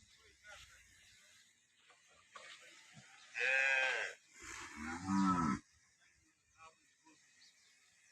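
Two loud, drawn-out cow moos one after another, fairly close, in Tharad, Banaskantha, with faint background noise and quieter sounds around them.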